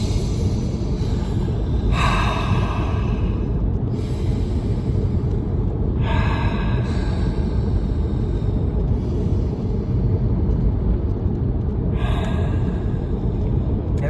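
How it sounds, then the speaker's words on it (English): Three deep, slow breaths, each a soft breathy rush spaced several seconds apart, heard over a constant, loud, low background roar. "Let's just do 3 breaths."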